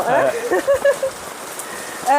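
Rain falls around a house, pattering steadily close by while a person speaks over it.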